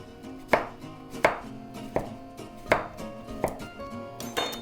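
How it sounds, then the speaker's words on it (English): A kitchen knife slicing through butternut squash, with about seven firm, evenly spaced chops thudding onto a cutting board, close and distinct. "So now we're ready to cut our squash."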